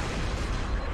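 A plasma grenade exploding in Halo Reach, heard as one continuous, loud, dense burst of noise that fills the whole brief moment without any break.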